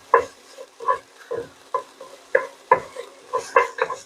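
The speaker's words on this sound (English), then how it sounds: "So you want to stir that just until it begins to be fragrant, just a few seconds." A spoon stirring ingredients in a pan for lasagna soup, about a dozen rhythmic scraping strokes against the metal, close and distinct over a faint sizzle.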